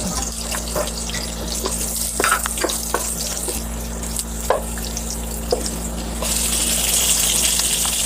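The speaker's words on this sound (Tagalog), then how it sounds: "At igisa po natin ang sibuyas, bawang, luya at kamatis." Onion, garlic, ginger and tomato sauté in hot oil in a pan for a home-cooked mussel dish, with a steady sizzle, occasional scraping stirs and a low background hum.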